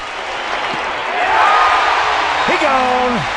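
A loud ballpark crowd cheers and applauds, rising to a roar partway through, and a whistle-like tone sounds near the end.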